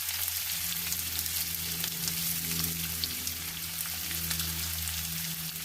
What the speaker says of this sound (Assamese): মই ইয়াতে নহৰু আৰু আদা বটাখিনি দি দিছোঁ।